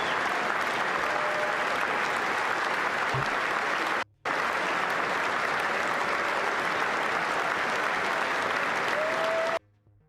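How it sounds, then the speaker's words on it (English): A standing audience claps at a late-night political comedy show, producing steady, dense applause that fills the room with a brief break midway, then stops abruptly near the end. "each and every one of those people who are standing there clapping"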